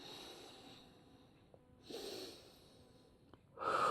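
Slow breaths during a forward fold in an intermediate vinyasa yoga session: two soft, airy exhalations a couple of seconds apart, the second stronger, heard close and alone.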